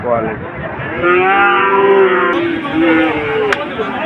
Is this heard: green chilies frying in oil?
no